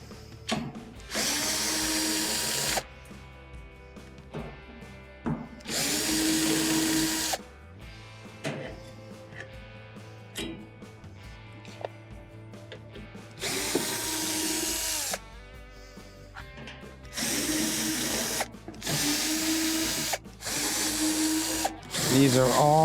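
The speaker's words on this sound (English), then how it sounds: "Then we're going to remove all the perimeter screws that holds the back panel in place after we remove the drain" A power drill backs out the perimeter screws holding the back panel of a Crosley washer. It gives several loud whirring bursts of a few seconds each, with quieter gaps between them filled by handling clatter and screws being set down.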